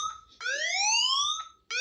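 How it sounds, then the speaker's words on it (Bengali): Android phone anti-theft security alarm sounding as the phone is pulled off its charger: loud rising electronic siren sweeps, one long upward sweep with a short one before and another starting after, no talk. "যেই কেউ এটা দিয়ে টান দিবে তার সাথে সাথে দেখেন যে অ্যালার্ম বাজতে শুরু হয়ে গেছে"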